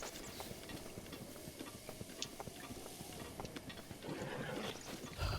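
Horse hooves clip-clop in a steady galloping rhythm in The Legend of Zelda video game, heard fairly close and continuous over a dense background of game sound and music.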